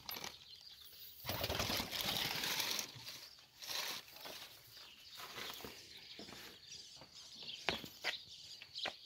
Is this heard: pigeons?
yes